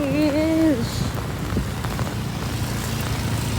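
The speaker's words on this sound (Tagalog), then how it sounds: "Sobrang lakas ng ulan" Steady rain hissing and pattering across a surface, with a brief tonal whine near the start and some low rumble underneath.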